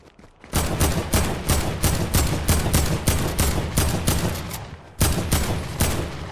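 Rapid bursts of gunfire in the video game Fortnite, loud and close, a dense rattling fusillade of shots with a brief pause near the end before the firing resumes.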